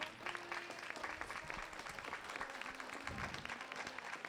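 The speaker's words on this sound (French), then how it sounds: "on peut leur faire un tonnerre d'applaudissements" Audience at a Miss Charmante Nouvelle Aquitaine beauty pageant breaking into applause, dense clapping with a few voices calling out beneath, heard at moderate distance.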